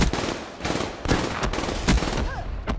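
Rapid automatic gunfire in a Black Ops 3 Domination match rings out in loud close bursts with brief gaps, alongside faint game effects and no talk.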